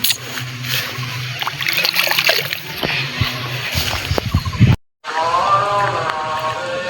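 Cucumbers being washed by hand in canal water outdoors, irregular splashes and sloshing close by, with a short dropout and a voice briefly heard.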